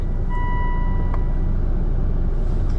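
Volvo car engine running after a restart, a loud steady low rumble heard close up, with a faint tonal beep near the start and no talking.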